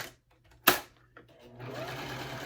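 A sewing machine stitches a back stitch across the end of a wristlet bag: one sharp, loud burst, a short pause, then a steady, moderately loud run of stitching that carries on to the end.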